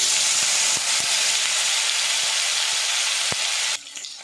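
Chopped tomato goes into a pan of sizzling cardamom and cinnamon tempering, making a loud, steady hiss with a few faint clicks that drops off sharply near the end.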